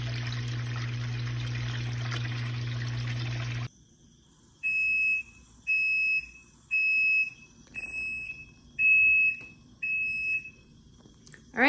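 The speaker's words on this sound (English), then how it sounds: "wait till the very end till you hear the beeping sound and you know the cycle is done" A portable home washing machine signals the end of its cycle with six evenly spaced electronic beeps, clear and fairly loud in a quiet room after a steady running hum cuts off.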